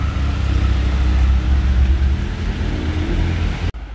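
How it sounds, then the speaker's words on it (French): A loud, continuous car engine rumble close by, in Monaco at sunset, fitting a white Porsche 911 GT3 (991) and a fluorescent Porsche GTS, holding steady for several seconds before cutting off abruptly near the end. "Combo Porsche. La GTS très fluo de tout à l'heure. Et une GT3 991 blanche."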